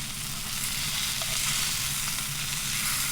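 Ribeye capped round steak sizzling steadily in a pan just after being flipped, a continuous loud crackling hiss with no voices.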